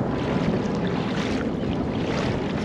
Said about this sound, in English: the waves are smashing this way